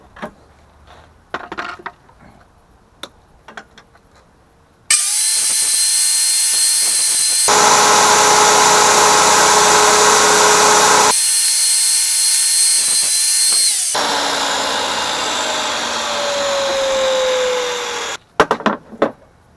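A loud, steady power tool whines continuously for about thirteen seconds while trimming the side of a plywood molding box, its pitch shifting between passes, framed by quiet handling clicks and knocks before and after.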